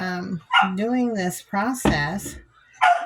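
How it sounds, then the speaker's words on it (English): A dog barks a few times in the background of a home kitchen while a person talks over it. "that's my dog you hear in the background"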